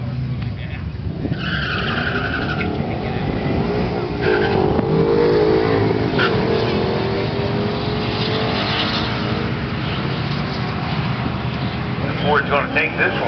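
Ford Mustang and Corvette drag racing, engines revving and roaring with tire skidding, loud and continuous, under a commentator's voice.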